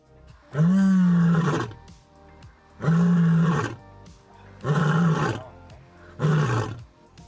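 A male white lion roars four times in long, deep, powerful bursts separated by short pauses, loud and close.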